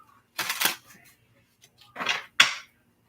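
Tarot cards are shuffled by hand in a few quick riffling bursts, close and crisp, with short pauses between them and no talking.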